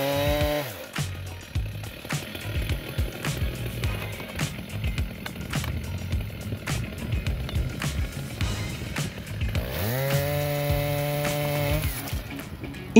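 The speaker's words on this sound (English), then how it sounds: "this style 90 chainsaw is a force of nature, conquering giant tree trunks with unparalleled power" A chainsaw cutting a giant tree trunk runs steadily at high revs with gritty buzzing, then idles and throttles up again near the end; loud and close.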